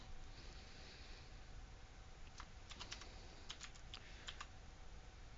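Clicky keystrokes on a computer keyboard, typed in short irregular bursts over a steady low background hum, fairly faint and with no voices.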